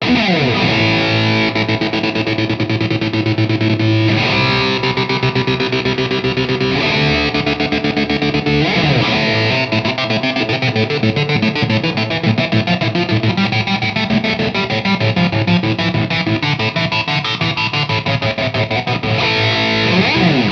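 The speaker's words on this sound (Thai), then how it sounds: "อันนี้ต้องลองกับเสียงแตกน่าจะดีอ่าเดี๋ยวลองวงจรช็อตเวฟครับ" A heavily distorted electric guitar plays through a distortion circuit in a Shark TR-1, continuously, with thick, gritty chords and sustained notes filling the whole stretch at a steady, loud level.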